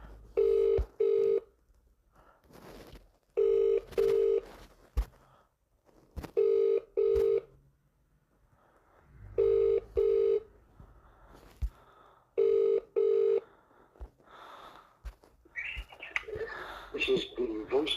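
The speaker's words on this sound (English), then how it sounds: "Ringing up Graeme Kenna" Telephone call placed to a council legal department line: repeated paired electronic ringback tones in regular bursts with pauses, some faint background noise between rings, ending with a brief burst of higher noise.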